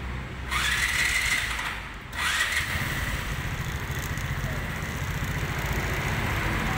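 A car engine starts and settles into a steady idle while its engine support rubber bushing is checked for vibration; the near, continuous rumble runs under a low hum with a brief dip as it catches, and a voice speaks over it.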